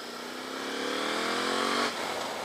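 Motorcycle engine revving on an urban street during an accidental wheelie, a steady rising drone that climbs in pitch for about two seconds and then abruptly drops off.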